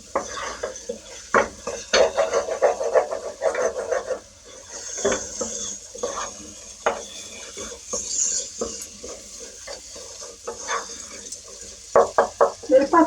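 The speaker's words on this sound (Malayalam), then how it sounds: "നന്നായിട്ടൊന്ന് മിക്സ് ചെയ്ത് നോക്കാം കേട്ടോ." Prawn biryani masala is stirred in a pot: repeated close scraping and clanking of a spoon against metal over a light sizzle, in uneven bursts throughout.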